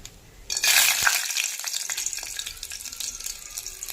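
Cumin seeds dropped into hot oil in a kadhai for a fasting-style misal, with a sudden loud sizzle that settles into a steady crackle, no voices.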